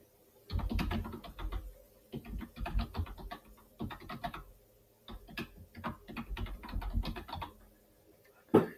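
Fingers type on a computer keyboard in quick bursts of soft, close key clicks, separated by short pauses, with a single sharper tap near the end.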